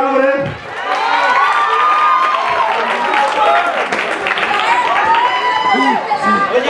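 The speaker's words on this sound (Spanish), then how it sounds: "Un aplauso para Iván, hombre." Wedding guests at a reception clap and cheer for a guest, a loud mix of whoops, shouts and applause rising quickly and staying dense throughout.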